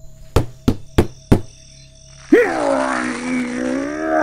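In a Russian children's cartoon, four sharp wooden knocks are followed by a loud, drawn-out cartoon frog croak that wavers in pitch and holds to the end.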